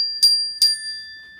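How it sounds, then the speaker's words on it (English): A classroom chime signal from the Calm Classroom program rings twice in quick succession, each strike bright and clear, leaving a long sustained metallic ringing tone in an otherwise quiet room. "using the chime from Calm Classroom."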